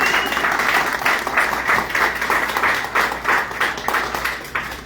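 An audience at a speech event gives a steady round of applause, with dense, even clapping that holds at a constant level throughout without a break.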